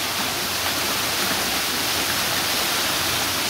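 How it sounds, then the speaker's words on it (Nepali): A stream near a resort rushes and falls in a steady, loud wash of water that never lets up across the short stretch, with no talking over it. "यहाँ यो पानी पै खतरा झरिरहेको छ खोलामा"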